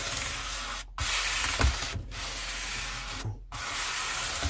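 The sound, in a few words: sanding guitar frets with 1000 grit sanding block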